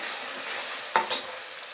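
Ginger garlic paste and onion frying in hot oil give a steady soft sizzle, with two quick scraping stirs near the end.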